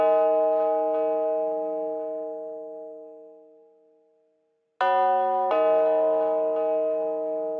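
A deep church bell sample rings and fades to silence, then two more bell strikes follow in quick succession, each sustaining with a rich, resonant ring, following a piano's root notes.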